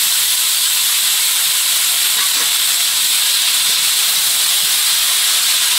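Vegetables tipped into hot oil in a pan already seasoned with dried red chilli, black cumin and chopped onion, giving a loud, steady sizzling hiss that holds unbroken from start to finish.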